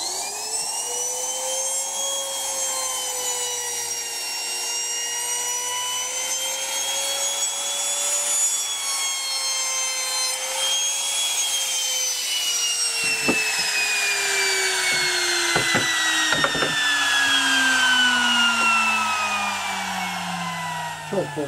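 Saw cutting the final-depth fret slots in a guitar neck in a luthier's workshop, a long continuous whining tone with sliding pitch, steady and close, with a few sharp clicks near the end.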